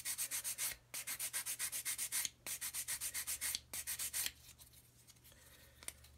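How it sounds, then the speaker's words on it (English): Sanding a lump off a plastic part from a Das Werk 1/72 U-9 U-boat model kit: repeated rapid back-and-forth rasping strokes in bursts, close and fairly loud, with short pauses between passes and no talking. "so sand away that lump."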